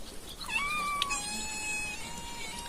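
A cat meows for food in a home kitchen during cheesemaking, giving one long, drawn-out, rising and then falling call. It is fairly close and clear over a faint background.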